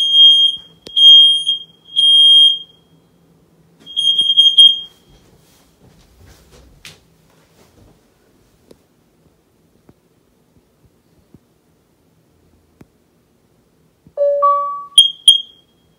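Nest Protect smoke alarms on other floors of a house going off during a test, a series of piercing beeps at varied distances, then quiet with faint knocks, and a closer two-tone chime and beeps near the end.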